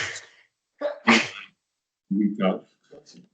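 A sharp sneeze bursts out near the start of a committee meeting, followed a moment later by a short spoken reply, close and clear in an otherwise quiet room.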